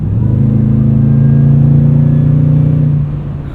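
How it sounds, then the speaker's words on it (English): A supercharged 2015 Toyota Tundra TRD Pro pulls hard under steady acceleration, its deep exhaust note and engine drone rising smoothly with a faint supercharger whine, loud and close from inside the cab, easing off at the end. "it's just a really nice blend of the exhaust note and just enough supercharge"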